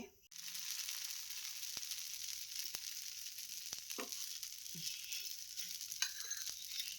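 Benne dosa batter sizzles steadily on a hot pan, a continuous close frying hiss with a few soft scraping ticks from stirring or spreading, no voices.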